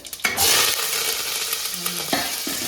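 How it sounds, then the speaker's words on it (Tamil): Chopped brinjal sizzles in a pan with oil, mustard seeds, chana dal, onion and curry leaves, frying steadily up close while a spoon stirs and scrapes through it in a few distinct bursts. "நம்ம கட் பண்ணி வச்சிருக்கிற கத்திரிக்காய் கத்திரிக்காய் நல்லா வதங்கட்டும்"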